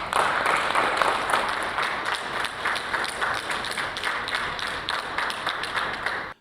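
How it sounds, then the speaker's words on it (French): The prime minister and government ministers applaud as the conductor arrives, a steady, sustained round of group clapping that holds for several seconds before cutting off. "Le chef d'orchestre est applaudi à son arrivée par le Premier ministre et l'ensemble des membres du gouvernement."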